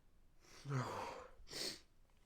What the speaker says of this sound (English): You ever get that feeling where you think you're going to sneeze, but then you don't actually sneeze?